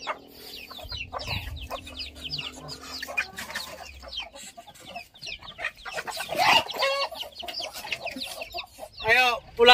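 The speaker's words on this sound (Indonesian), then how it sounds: "Ayam opung kita banyak di ladang ini." Free-ranging chickens clucking across a farm field in a fertile Indonesian farming village, several birds calling at once in busy bursts, with a louder cackle near the end and low background rumble.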